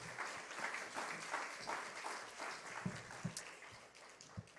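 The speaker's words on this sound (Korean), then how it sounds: "우리 박수로 크게 환영하겠습니다" An audience at a university chapel service applauds to welcome a former university president, with soft, steady clapping heard at a distance and a few sharper claps standing out near the end.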